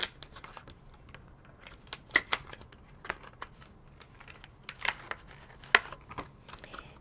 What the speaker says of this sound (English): let me grab that clear box and put it all together here